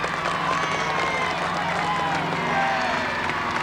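Big street crowd at the London Marathon applauding and cheering runners as they pass, a dense, steady roar of clapping and voices filling the whole stretch, with speech mixed in.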